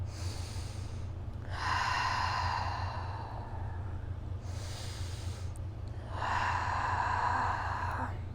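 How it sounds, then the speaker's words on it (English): Two slow, deep breaths during a morning vinyasa yoga session, each a broad airy inhale-exhale lasting a few seconds, close and steady over a constant low hum, with no talking. "Take 2 deep breaths here."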